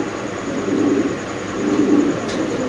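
Low, rolling coos from a pair of Spanish pigeons on a pigeon farm, a steady murmuring drone that swells slightly midway and continues without pause at moderate, close volume.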